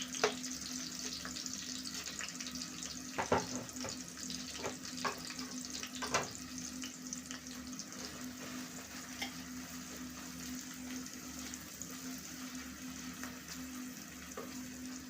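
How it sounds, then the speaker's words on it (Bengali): Chicken and potatoes fry in oil with a steady sizzle and occasional stirring scrapes, a quiet continuous crackle with a faint hum underneath and no talking. "তেল দিয়ে মুরগি ভাজছি, আলু ভাজছি।"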